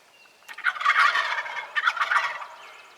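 Wild turkeys gobble during a bow hunt, with two loud, rapid, rattling gobbles close by, separated by a brief pause against a quiet outdoor background.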